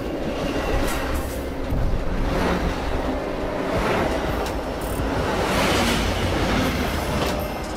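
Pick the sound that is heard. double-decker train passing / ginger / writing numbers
double-decker train passing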